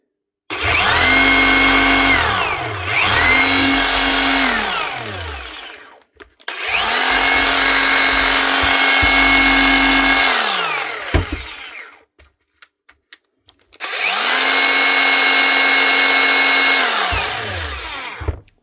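Hikoki DH40MEY2 rotary chipping hammer, brand new, runs loud and close in three long bursts, each spinning up and winding down with a steady motor whine, separated by short pauses and a few faint clicks.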